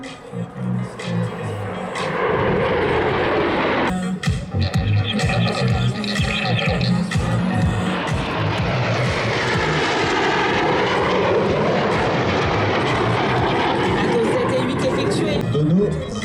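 French Air Force Patrouille de France solo jets make a low, fast pass at La Ferté-Alais, a loud, sustained jet roar that swells and shifts in pitch as they close at 30 metres, with a voice partly under it.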